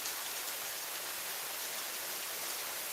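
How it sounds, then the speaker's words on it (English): Heavy rain falling outside on a rainy Saturday, a steady, even hiss of downpour with no breaks, fairly soft and heard alone. "Yeah, it's raining pretty good now."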